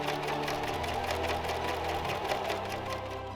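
Sewing machine running at long stitch length, sewing gathering threads along the top edge of a ruffle for an Edwardian evening gown skirt, a steady close mechanical whir with rapid stitching pulses throughout.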